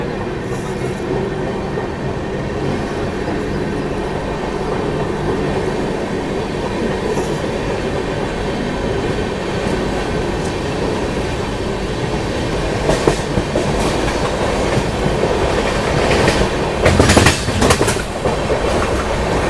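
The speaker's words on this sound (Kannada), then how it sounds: "ಈ ಸದ್ಯಕ್ಕೆ ನಾವು ನಾಸಿಕ್ ರೋಡ್ ರೈಲ್ವೆ ಸ್ಟೇಷನಿಂದ ಡಿಪಾರ್ಟ್ ಆಗಿದ್ದೀವಿ" A Rajdhani Express rolls on after leaving Nashik Road station, heard from inside a first-class AC coach. The steady rumble and clickety-clack of the wheels grow louder with rattling bursts toward the end, and no one speaks.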